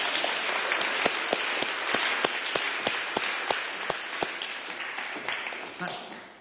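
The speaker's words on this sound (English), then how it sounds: "Hey, round of applause." An audience at a talk gives warm applause, a steady wash of many hands with a few sharp, close claps standing out, gradually tapering off near the end.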